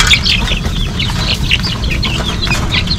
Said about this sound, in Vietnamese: mình sẽ cho cái bọn gà lớn nó ăn riêng bên đây